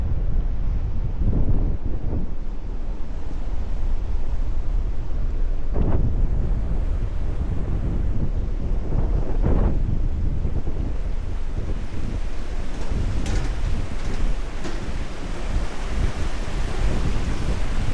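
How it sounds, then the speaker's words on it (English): Torrents of melted snow and glacier ice pour into the ocean in the far Arctic north, a loud broad rushing roar with gusting wind buffeting the microphone and surging swells throughout, no voices. "Torrents of melted snow, glacier ice, rushing off into the ocean here."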